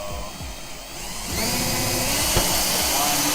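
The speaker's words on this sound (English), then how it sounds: "we're gonna kind of take like a Christmas tree drill bit" A power drill with a step drill bit whines steadily, rising in pitch and intensity partway through, grinding continuously through metal on a 1997 Honda Civic hatchback without pause.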